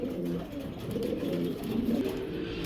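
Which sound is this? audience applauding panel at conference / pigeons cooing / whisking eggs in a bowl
pigeons cooing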